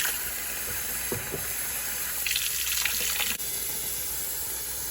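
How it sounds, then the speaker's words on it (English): Warm water running from a kitchen sink tap, a faint steady hiss and trickle with a brief louder splash partway through. "I'm going to run some warm water"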